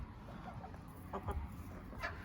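Roosters clucking inside an enclosure that also holds a duck, soft, low-level chicken calls with a couple of brief clucks rising over a steady background murmur.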